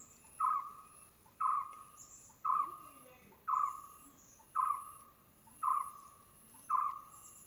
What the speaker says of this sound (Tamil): நல்ல சவுண்டு வந்து பறவையெல்லாம் வந்து சவுண்டு கொடுத்துட்டே இருக்குது